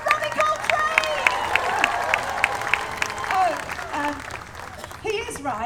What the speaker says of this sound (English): one more round of applause for Robbie Coltrane!